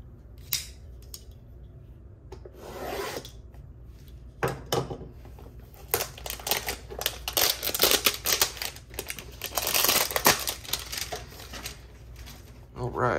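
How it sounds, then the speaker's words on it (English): Panini Prizm 2021 football card hanger packs being ripped open: crinkly foil tearing and rustling in repeated bursts, building to a dense stretch of crackling wrapper noise, close and fairly loud. "Let's go ahead and rip these two hangers."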